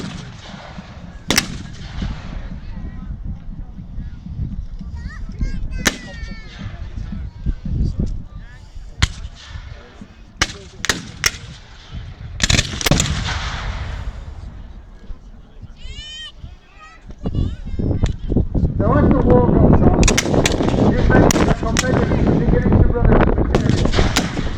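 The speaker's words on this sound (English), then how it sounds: "So our Confederate cannon crew got that right." A Confederate cannon crew fires a cannon at a US Civil War reenactment battle, with heavy booming blasts and sharp reports spread over the span, crowd noise and talk around them, and a sustained roar of mixed gunfire toward the end.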